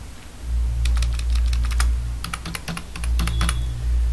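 Keys clicking on a computer keyboard as a 6-digit PIN is entered, with short bursts of separate taps in small clusters, close and clear over a low steady hum.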